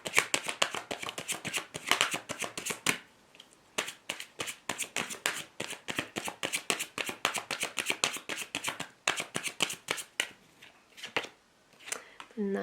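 Tarot cards are shuffled and drawn, giving rapid crisp riffling bursts for a few seconds, then a steady string of sharp papery flicks and taps with short pauses, close and fairly quiet.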